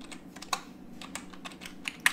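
Computer keyboard typing at a command prompt: a quick run of light, clicky keystrokes in irregular rhythm, a few sharper taps standing out, close and alone over a low steady hum.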